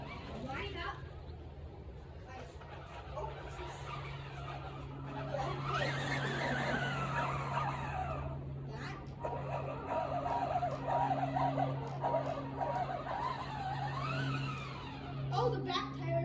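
A remote-control toy car whines and revs as it drives and skids, its motor rising and falling under near, excited talk and bursts of laughter.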